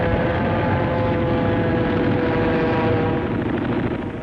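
Warplanes roar overhead during a heavy wartime air raid on US ships off Iwo Jima, a dense, continuous engine drone that stays loud and steady throughout with no speech.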